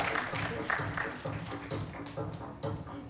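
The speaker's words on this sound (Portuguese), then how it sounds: "Uma salva de palmas pra Nanda" Audience applause for a theatre actress at a stage show, a faint, dense patter of hands from a room-filling crowd, with no one speaking over it.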